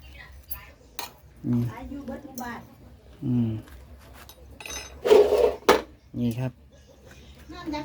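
Baked pork being cut with utensils on a plate, giving a few short clinks and scrapes of cutlery and dishes, close and moderately loud, spaced between stretches of talking.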